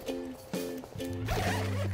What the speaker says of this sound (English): The bag opens up with two zippers.